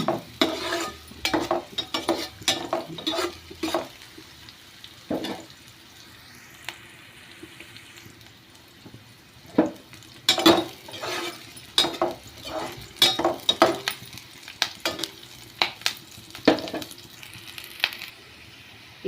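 Carrot rice being made, with ingredients stir-fried in a pan: a steady sizzle under repeated scraping and clinking strokes of a spatula, close and fairly loud, with short bursts of stirring throughout.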